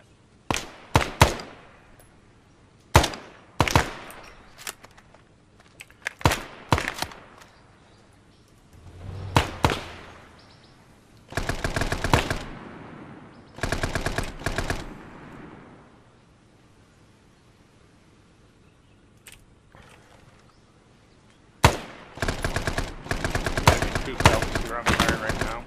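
Gunfire and machine guns in the video game ARMA during a cooperative Prairie Fire mission at Lang Vei: scattered single shots and sustained automatic bursts, some loud and near, with quieter gaps between.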